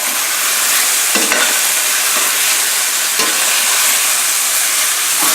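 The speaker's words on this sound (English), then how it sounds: "You can hear the sizzling, so you want that." Sausage sizzling in a hot frying pan, a loud, steady, close crackling hiss that runs without a break, with a few faint clinks over it.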